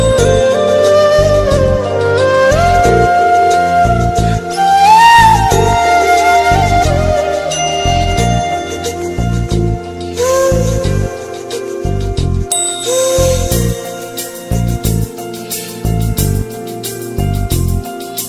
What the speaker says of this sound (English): Make this your ringtone by clicking the link in the description.